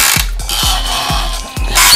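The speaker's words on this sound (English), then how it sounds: "It had the clicking noise you can hear." A Super Powers Batmobile toy car gives off a series of sharp, evenly spaced ratcheting clicks from its internal mechanism, close and fairly loud, with a faint high hiss behind them.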